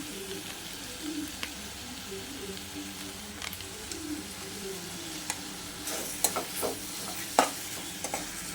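Rice with masala and pepper powder is stirred in a hot pan, giving a continuous sizzle with spoon scrapes and clicks that grow sharper and busier toward the end.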